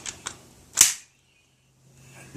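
A toy airsoft pistol fires one sharp, close crack that is loud and brief, followed by a short hiss of gas and then near silence. Fainter clicks of handling come just before the shot.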